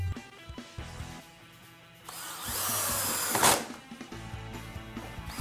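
A power drill whirs in a steady two-second burst as it drives long screws to attach a door closer's jamb bracket, with a rising whine at the end, then softer handling clicks.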